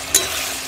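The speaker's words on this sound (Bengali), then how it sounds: "তো আমি কিন্তু এটা সুন্দর করে কষাবো" Brief sizzle and stir as chicken curry with elephant foot yam is sautéed in oil, one quick scrape then a soft steady frying hiss.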